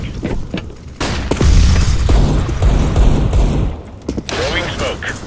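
A flashbang grenade goes off in a CS:GO match, a sharp bang amid rattling bursts of close gunfire that continue loud throughout.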